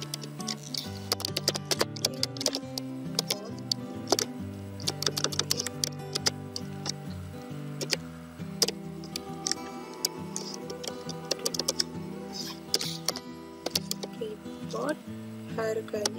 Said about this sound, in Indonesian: Kemudian ketik lagi